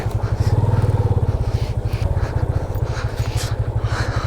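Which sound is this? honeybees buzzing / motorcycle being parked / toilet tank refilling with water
motorcycle being parked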